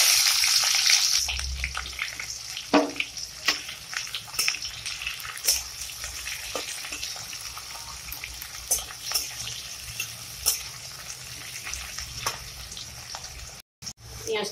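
Chopped onions frying in oil for a lentil fritter curry, with a continuous bright sizzle and frequent small crackles and pops, a few louder scrapes, and a brief dropout near the end.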